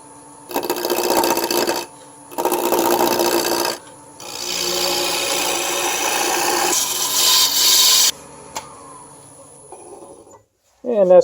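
Mahogany handle blank for a draw knife spinning on a wood lathe at about 800 RPM, a loud, close rasping and scraping of the tool in several long passes with short pauses between, ending in brief clunks.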